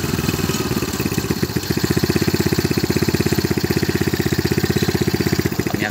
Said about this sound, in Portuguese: O barulho do motor não tá alto